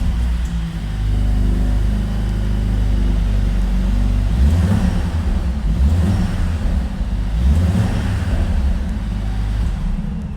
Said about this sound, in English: Let's give the CLA 45 a cold start